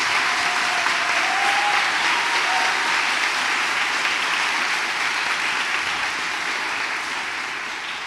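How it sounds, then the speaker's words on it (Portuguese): A church congregation applauds during a Catholic sermon by Pe. Ailton F. Cardoso, a continuous wash of many hands clapping at an even level that tapers slightly toward the end. "dê uma salva de palmas a Jesus"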